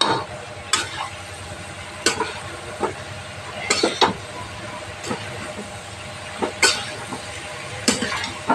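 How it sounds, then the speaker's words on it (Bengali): A spoon stirs chopped bottle gourd with spices in a frying pan, giving repeated scraping strokes at irregular intervals over a faint background hiss. "এভাবে মিশিয়ে নিচ্ছি মশলাটার সাথে।"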